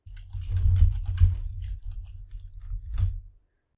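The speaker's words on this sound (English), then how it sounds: "Let's type in a description." Typing on a computer keyboard, with a quick run of close, soft clicking keystrokes and a louder tap near the end before the sound stops.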